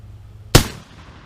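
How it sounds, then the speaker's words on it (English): A Lee Metford rifle chambered in .303 British fires one black powder round, a single sharp loud blast that fades into a short echoing tail, with quiet surroundings before it. "This is a lovely little gun to fire."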